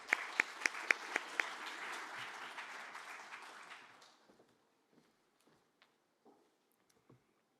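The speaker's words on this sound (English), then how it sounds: "A round of applause, please." Audience applause at an energy conference session during African Energy Week 2023, dense clapping that swells for about four seconds, then thins out and fades to a few scattered claps in a quiet hall.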